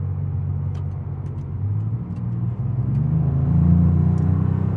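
A 2023 Maserati MC20 Cielo mid-engine supercar rumbles low and steady, then builds as it revs higher, deep and close with a rising tone toward the end.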